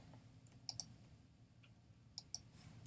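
Several sharp, light computer mouse clicks, two close pairs spaced apart, crisp and near against a quiet room hum with no talking.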